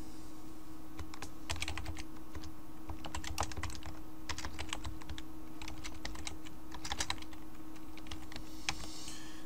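Steady, close typing on a computer keyboard as a title is entered for a new email distribution list on a website, with irregular bursts of keystrokes over a faint hum.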